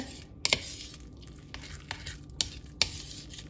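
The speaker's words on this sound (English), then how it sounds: "Give that a stir." Mexican shredded cheese is stirred into a twice-baked potato filling: quiet, thick squishing with several distinct spoon clicks against the bowl, spaced irregularly over a few seconds, heard alone with no talking.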